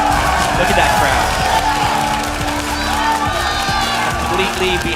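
Large esports arena crowd at a League of Legends LCS match cheering and whooping loudly and continuously, a dense roar of voices and applause with no pauses.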